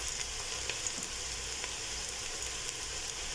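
Boiled beans hit a hot frying pan, setting off a steady, dense sizzle with faint crackles running throughout, close and continuous with no voices.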